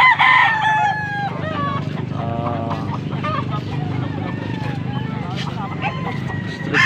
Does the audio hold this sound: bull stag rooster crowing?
yes